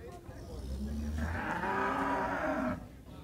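A cow at a cattle fair in Capoeiras, Pernambuco, gives a drawn-out low moo amid the murmur and bustle of the market, moderately near.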